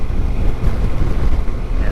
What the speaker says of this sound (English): The ocean is busy today.